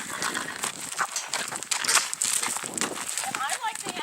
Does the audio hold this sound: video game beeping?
no